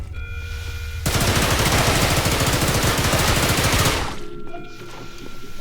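Rapid automatic gunfire from a weapon in an SCP first-person shooter game, a dense burst of about three seconds that cuts off sharply, followed by quieter in-game background sound.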